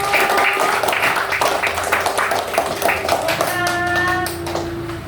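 Classmates applaud group one after a school presentation, with a dense burst of clapping that thins out near the end while a voice speaks over it.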